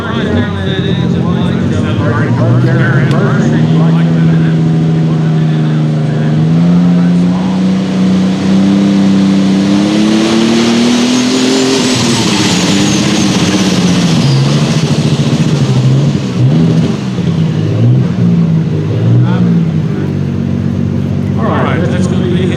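Case International light super stock tractor straining down a pulling track at a Hillsboro, Tennessee pull, a loud continuous engine roar whose pitch climbs and wavers before settling, with an announcer talking over it.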